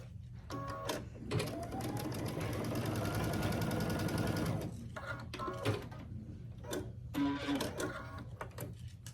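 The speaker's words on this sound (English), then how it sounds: "So I'm gonna stitch these two together down this side." A sewing machine runs in a steady rattling burst for a few seconds, stitching quilt pieces together, then stops, followed by scattered handling clicks up close.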